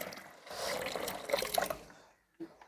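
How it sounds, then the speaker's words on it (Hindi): Liquid fertilizer made from mango, orange, lemon, banana and apple peels is poured through a strainer, giving a close, sloshing stream for a couple of seconds, then a short trickle and a final drip. "मैं इसे सीधे छान लेता हूँ"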